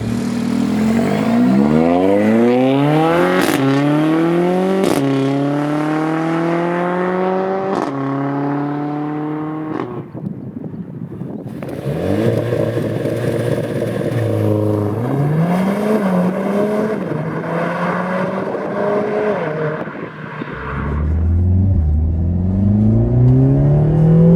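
A Mercedes-AMG A45 S hot hatch and a second car rev hard through the gears, with rising engine notes, sharp upshift breaks and crackles, loud and close, followed by another car's throaty acceleration.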